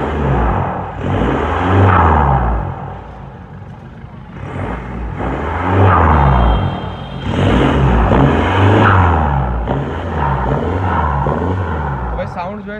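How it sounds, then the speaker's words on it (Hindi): A modified Hyundai Verna diesel car with an Akrapovic exhaust revs repeatedly in long rising and falling swells, loud and close, with a voice talking over part of it. "तो ये एग्जॉस्ट का साउंड भी मैं सुनवाऊंगा अभी आगे"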